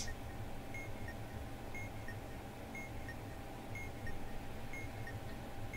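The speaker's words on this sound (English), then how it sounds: "Beep, beep, beep," Regular, faint electronic beeps from the bomb-defusal video game Keep Talking and Nobody Explodes, ticking along at an even pace over a low room hum for several seconds.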